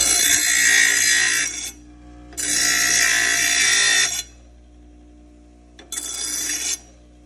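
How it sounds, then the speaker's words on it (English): A lawn tractor mower blade from a John Deere LA135 is sharpened on a grinding wheel, giving loud, harsh grinding bursts in three passes with short quiet gaps between them. "the grinding wheel with the grinding disc works the best."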